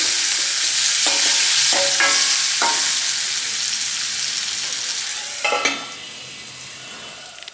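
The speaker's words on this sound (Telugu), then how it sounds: "ఇప్పుడు ఈ ఉల్లిపాయని 1 నిమిషం పాటు మంచిగా ఫ్రై అవ్వనివ్వాలి" Chopped onions with curry leaves fry in a pan with a loud, steady sizzle, punctuated by a few clinking stirs of a spoon against the metal, and no voices.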